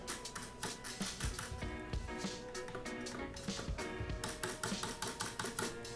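Repeated taps on the right side of a keyboard spacebar with a cheaply made stabilizer, on a Quantum QHM9800 keyboard, giving a steady run of close, hollow plastic clacks over a faint background.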